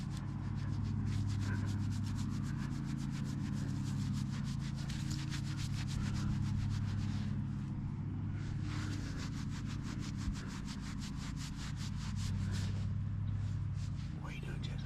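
A donkey rubs against a person, making a close, repeated rasping scrape of hair on fabric with a steady rhythm, with soft talk in the background.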